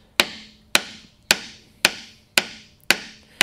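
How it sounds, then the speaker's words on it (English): Seven evenly spaced sharp mallet strikes on a chisel, chopping out dovetail waste in a wooden egg-holder board, each crisp whack ringing briefly and decaying, close and alone without talk. "We're going to just chisel it out."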